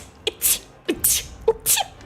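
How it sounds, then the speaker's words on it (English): A cat sneezes violently three times in quick succession, each burst a sharp, hissing snort with a short gap between, fairly close and loud against a quiet background. "You hear the cat sneezing violently."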